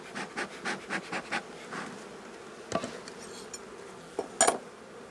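Honeybees buzz around an opened beehive during an inspection, a droning hum with pulsing bursts early on, followed by a few sharp clunks and knocks from handling the hive.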